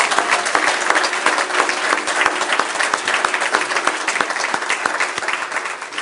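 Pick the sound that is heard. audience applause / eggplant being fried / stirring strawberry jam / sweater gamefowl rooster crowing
audience applause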